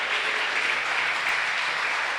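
A church congregation applauds, an even, continuous patter of many hands clapping at moderate loudness with no voices over it.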